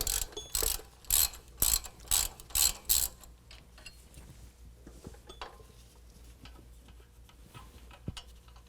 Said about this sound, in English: I'm going to go ahead and use a 12 millimeter to take my brake line bracket off